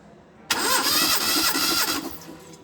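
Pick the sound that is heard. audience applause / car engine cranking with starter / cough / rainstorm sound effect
car engine cranking with starter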